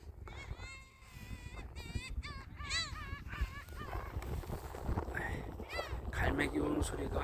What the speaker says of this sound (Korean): 갈매기 우는 소리가 크게 들리네요